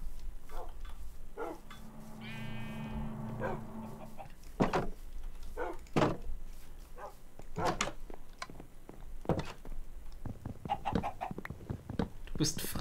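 Minecraft chicken clucking in a farm stall, a short run of bright repeated clucks early on, then scattered sharp animal calls and thumps with someone talking over much of it.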